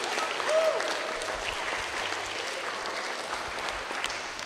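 An audience at an upper secondary school student presentation applauds steadily, a dense wash of clapping from the room that holds evenly for several seconds.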